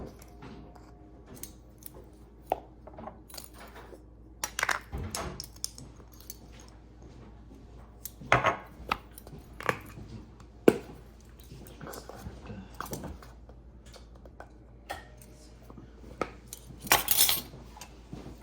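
Dry seitan ingredients, including yeast, stirred together in a bowl for BBQ seitan, with scattered close clinks and scrapes of a utensil against the dish between quiet pauses, and no talking.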